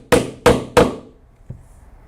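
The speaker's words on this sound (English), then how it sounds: "set the rivet with the rivet setter" A rivet setter is struck on a rivet through leather, three sharp, evenly spaced hammer blows close up, then a lighter single tap after a pause.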